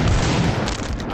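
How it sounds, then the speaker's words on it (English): A mine detonating in the mobile shooter Tacticool, a loud, dense boom that fills the whole moment at close range and then thins slightly toward the end. "Oh, I got killed by my own mine."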